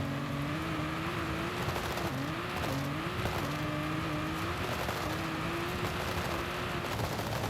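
Car tires squealing steadily while racing in the video game Forza Horizon 5, a continuous high wavering screech riding over a dense engine roar that holds loud for the whole stretch, with no talking.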